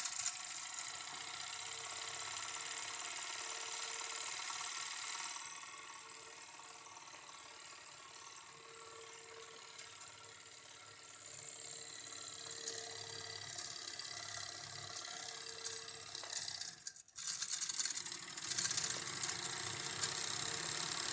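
A Jensen 65EL live steam engine, a 110-volt electric model with ball bearings, slip eccentric and Teflon gaskets, runs with a quiet, steady mechanical ticking and rattle that dips midway, then grows busier, with a sharp clatter near the end.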